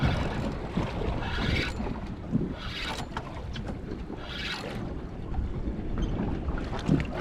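A steady low boat motor drone with wind and water noise, constant throughout with brief gusty swells, while fishing for mahi-mahi offshore.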